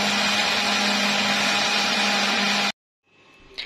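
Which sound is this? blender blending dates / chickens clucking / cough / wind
blender blending dates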